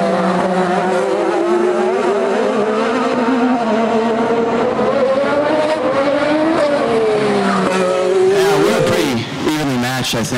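IndyCar race cars at the Detroit Grand Prix scream past loudly, engine pitch rising and falling across the whole stretch, with a rapid sweep near the end and a voice talking underneath.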